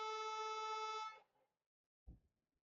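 A car horn honks outside: a single steady, bright honk lasting about a second, then a brief low thump. Fairly faint and distant, with no talk.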